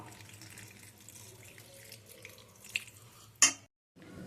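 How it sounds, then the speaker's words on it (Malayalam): Warm water is poured into a bowl of golden-fried paneer in a home kitchen, a faint steady trickle that ends with a short sharp splash before a brief silence. "പനീർ എടുത്തൊരു പാത്രത്തിലേക്ക് മാറ്റിയതിന് ശേഷം കുറച്ച് വാം വാട്ടർ അതിലേക്ക് ഒഴിച്ചു വെക്കുക"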